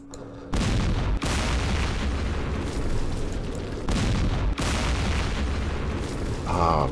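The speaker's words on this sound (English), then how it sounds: "Let's do some firing with our tanks here." Tanks fire in the Campaign Series Middle East wargame, producing loud, sustained booming blasts with a heavy rumbling roar that cuts off briefly twice and then resumes.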